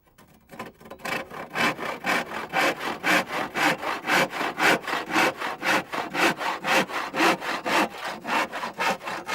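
A hand saw cuts through wooden battens to length in steady, rhythmic back-and-forth strokes, close and loud, with no talking.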